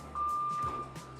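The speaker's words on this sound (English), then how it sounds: "Sorry for the beeping in the background." Beeping in the background at an indoor court during a scored match, a steady electronic tone that holds for most of a second, faint to moderate, under a low ambient rumble.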